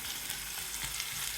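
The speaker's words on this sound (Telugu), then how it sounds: "తాలింపు బీన్స్ 1 నిమిషం వేపిన అంతే" Green beans frying in a tempering of oil and spices in a pan, giving a steady close sizzle with faint stirring, no voices.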